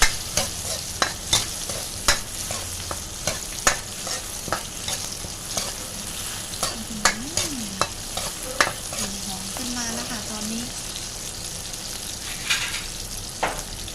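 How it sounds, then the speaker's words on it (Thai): Chili and garlic sizzle as they stir-fry in a hot pan while a utensil scrapes and taps the metal in an irregular rhythm, with brief faint tonal squeaks midway. "ผัดให้มันหอมนะคะ ผัดให้พริกกับกระเทียมให้มันหอมก่อน"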